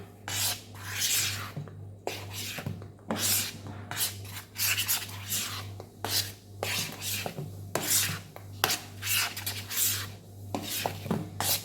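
A spoon scrapes and stirs banana cake batter in a bowl with steady rhythmic rubbing strokes, close and fairly soft over a low background hum, with no talk.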